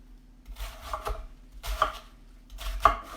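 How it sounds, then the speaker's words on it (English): A knife slices cabbage thinly for sauerkraut, making three distinct crunchy cuts that each end in a thud on the board, spaced about a second apart, close up and without speech. "Okay, I'm going to cut again."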